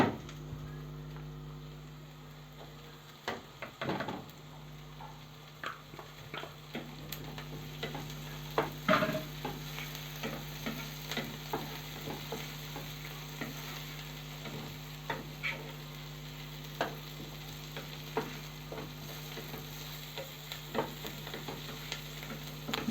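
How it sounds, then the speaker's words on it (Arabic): Garlic and peppers sizzle and fry in a pan, stirred in steady scraping bursts, with a constant hiss underneath and scattered utensil clicks close by. "نشوح كده تشويحتين"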